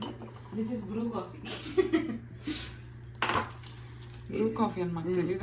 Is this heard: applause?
no